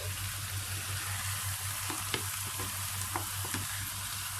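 Tomatoes, sausage and peppers fry in a pan with a steady broadband sizzle, a few sharp scrapes and knocks as the mixture is stirred, and a low hum underneath.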